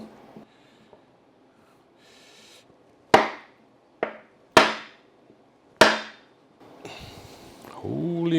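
A hammer repeatedly strikes a stuck transmission part on a 1964 Triumph TR4 during seal and O-ring replacement, with four loud, sharp metallic blows spaced about a second apart and quieter handling noise between.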